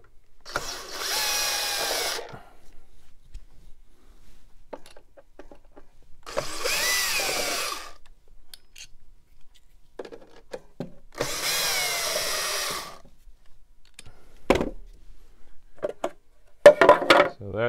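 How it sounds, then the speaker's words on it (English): Three bursts of a cordless drill whirring as it removes screws from a DeWalt DW735 planer, each a couple of seconds long with pauses between, followed by clicks and handling noises close by. "I'm just going to use the bit I've got in my drill here"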